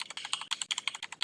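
Quick, uneven keystrokes on a computer keyboard while entering DNS zone settings on Fedora Linux 40. Close, crisp clicks come in short bursts with tiny pauses, and no voice is heard.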